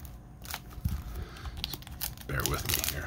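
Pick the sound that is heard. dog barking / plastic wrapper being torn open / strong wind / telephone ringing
plastic wrapper being torn open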